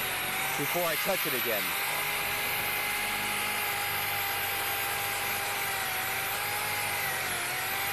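A car paint polisher buffing machine runs loudly and steadily, its motor whine holding an even pitch for the whole stretch. Someone speaks briefly over it near the start.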